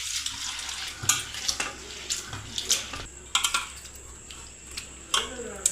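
Flattened rice (poha) is washed in water by hand in a kitchen. Quiet splashing and sloshing come with light clinks of a vessel and irregular small knocks, and a voice can be heard faintly.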